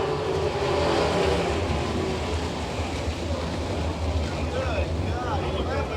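Race cars roll into the work area behind the pits at a Wichita speedway during a caution, their engines a loud, continuous, close rumble with rising and falling revs and occasional higher whines.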